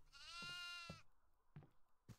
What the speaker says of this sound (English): Oh, I found a goat.